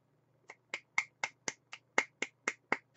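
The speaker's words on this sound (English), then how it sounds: "Golf clap." A slow, sparse series of about eleven crisp hand claps sounds alone in a quiet room, evenly spaced and close.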